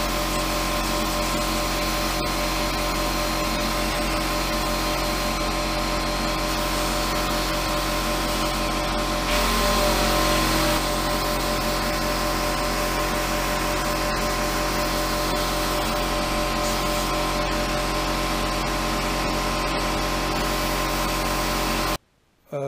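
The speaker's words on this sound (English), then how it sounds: "It's quite noisy. I've got a dust extractor running and obviously the compressor." A workshop dust extractor and air compressor run together in a loud, constant broadband roar with a steady hum. A brief surge comes midway before everything cuts off abruptly near the end.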